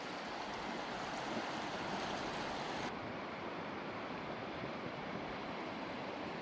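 The fast-flowing Amata river, a rapid-filled tributary of the Gauja in Latvia, rushes as a steady, dense roar of water that stays constant throughout, with no voices.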